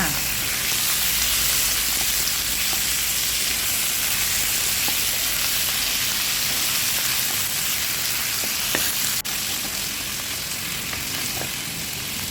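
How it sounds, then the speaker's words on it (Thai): Pork belly and pork bones stir-frying in a pan, giving a steady close sizzle and hiss with scattered scraping stirs throughout, no talk over it. "เราก็จะใส่สามชั้นกระดูกหมูค่ะ ผัดให้สุกค่ะ"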